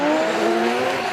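Two Formula Drift Japan cars launch side by side at a 2024 event, their engines rising together in a loud, strained whine for a brief moment.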